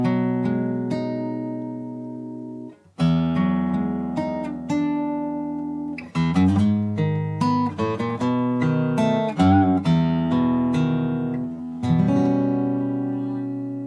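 An electric guitar in standard tuning plays the intro line of a song alone, with ringing sustained chords and a brief break near three seconds, then plucked single notes and chord changes that carry on clearly.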